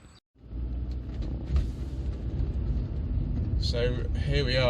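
A 2005 Rover 45 1.6 GSi driving on narrow country roads along the Hampshire-Sussex border, heard from inside as a steady, loud low engine and road rumble that carries on without a break.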